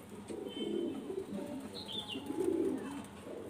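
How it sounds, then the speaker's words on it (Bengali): Pigeons of a fancy black-and-white line coo softly in low, rolling murmurs, with a faint higher chirp and light background noise throughout. "ওর লাইনের পায়রা"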